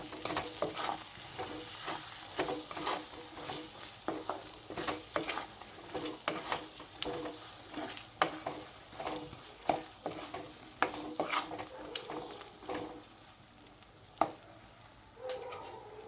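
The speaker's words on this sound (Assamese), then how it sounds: "গুড়খিনি যেতিয়ালৈকে গলি নাযায় তেতিয়ালৈকে ভালদৰে লৰাই থাকিব লাগিব।" Jaggery being stirred in a pan while it melts for a sweet and sour jujube pickle, with a steady run of scraping strokes over a soft sizzle, close and alone.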